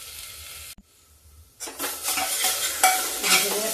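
Onions frying and being stirred in a pan, a brief quiet gap, then a bright sizzle with scraping stirs swelling up close and loud, no talking.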